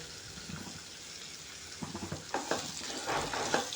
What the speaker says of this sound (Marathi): या शेवग्याच्या शेंगा ॲड करणार आहे तर हे थोडंसं एक मिनिटभर असं परतून घ्यायचं आहे